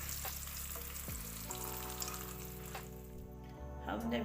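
Crispy KFC-style chicken wings frying in hot oil, a steady close sizzle and crackle with faint stirring and a brief water-like splash, a low hum running beneath throughout.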